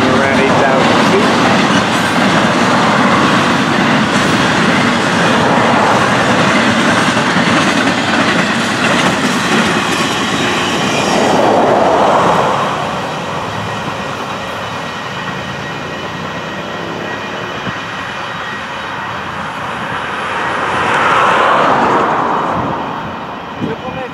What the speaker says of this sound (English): Wait for this train to clear. All right, short, fast train.